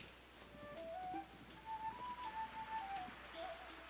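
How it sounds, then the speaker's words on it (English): Steady rain pattering in the video game Tales of the Shire, a soft continuous hiss with a faint tonal whistle of game music or wind drifting above it, no voices. "Dude, I love the sound of the rain."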